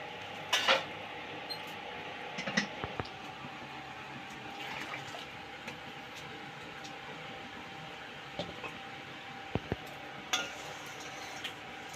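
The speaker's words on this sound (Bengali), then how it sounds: "এখন কড়াটা ভালোভাবে ধুয়ে নিয়ে চলে আসবো" A metal kadai is rinsed and washed with water in a home kitchen: faint, steady running water with occasional light metallic clinks and knocks.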